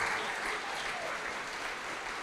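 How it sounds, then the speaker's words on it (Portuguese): Steady applause from a congregation during a church service, dense continuous clapping filling the space at an even level throughout, with no voices standing out. "Vamos aplaudir ao Senhor Jesus por cada vida que está chegando."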